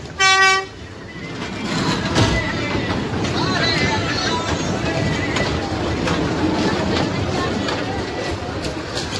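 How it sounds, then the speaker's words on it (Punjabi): Children's park ride train running with a steady rumble and rattle of wagons, a short horn toot near the start, and faint voices in the background throughout. "ਦੇਖੋ ਜੀ ਟ੍ਰੇਨ ਦਾ ਫੁੱਲ ਇੰਜੋਇਮੈਂਟ"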